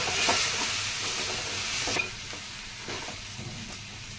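Raw banana pieces fry in oil with salt, turmeric and chili powder, giving a steady hiss and crackle with occasional stirring scrapes, close and moderately loud.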